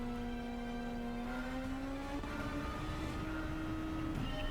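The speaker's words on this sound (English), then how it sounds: "So we're underway here for racing at Road Atlanta" Race cars in Gran Turismo 7 roar around Road Atlanta, a steady, loud engine drone whose pitch climbs slowly as the cars accelerate, with no voices over it.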